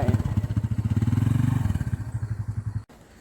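A motorcycle engine revs hard with a pulsing, loud throb while the bike is stuck on a sandy beach path in Goa, then cuts out abruptly near the end.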